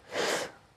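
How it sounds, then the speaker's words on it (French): A single short, breathy sneeze, set off by air conditioning, bursts out close by, then quickly fades to near silence. "Ça me fait éternuer cette connerie."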